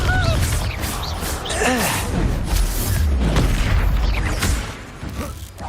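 Hogwarts Legacy combat as a Confringo fire spell and other spells are cast, with booming bursts and magical whooshes layered over game effects and grunting, shouting voices throughout.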